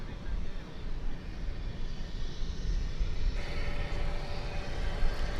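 An American Airlines Airbus A320 arrives from Des Moines at DFW Airport at night, a steady distant engine roar that rises slightly over a few seconds.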